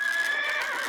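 A horse whinnies in a steady, high, drawn-out call close by, with faint clip-clopping hooves beneath it, heard alone with no talk.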